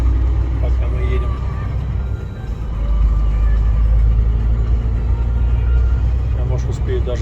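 A car drives along a road on a trip from Kazan to Moscow, heard from inside as a steady low engine and road rumble beneath continuous conversation.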